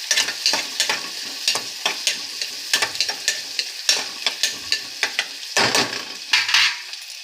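Onions and curry leaves frying in oil for tomato rice, a bright continuous sizzle broken by regular sharp scrapes and knocks of a spatula stirring the pan, close and loud with no talking.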